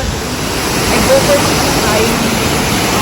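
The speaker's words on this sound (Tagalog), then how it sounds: "Oh, aga, may mini Niagara Falls dito." A small waterfall in Taiwan rushes in a steady, broadband wash of falling water, close and continuous, with faint voices nearby.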